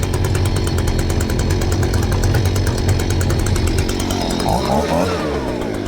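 A Stihl BG 65C leaf blower's small engine runs loud and close, with a harsh, high-pitched whine that holds steady throughout.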